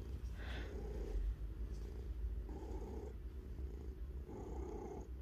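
Steady close purring from a pet cat, with rhythmic rumbling breaths cycling in and out continuously and no talking over it.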